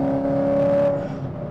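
A 6th-gen Chevrolet Camaro with an aftermarket shift knob shifting into third gear, its engine holding a steady droning tone up close, then the pitch dropping as revs fall with the shift.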